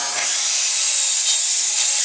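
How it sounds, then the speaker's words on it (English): A miter saw slices through a board in one steady, loud, continuous cut that holds its level for about two seconds, with no talking over it. "I'm just going to run this over to the miter saw, give it a cut, and then Bryan is going to rip it"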